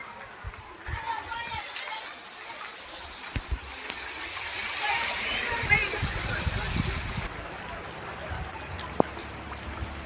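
Floodwater in a village street with homes flooded by heavy rain splashes and churns steadily, a broad wash of watery noise with occasional nearer splatters, while voices talk faintly in the background.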